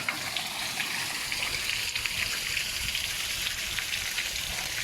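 Powerful water flow pours over a San Juan River spillway, a steady hissing rush heard close and loud without a break, with no voices over it.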